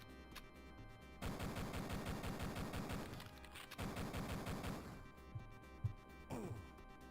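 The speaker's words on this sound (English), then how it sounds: "Who's shooting me?" Video game gunfire in Duke Nukem 3D, two long bursts of rapid automatic shots separated by a short gap, followed by a few scattered single cracks, moderately loud.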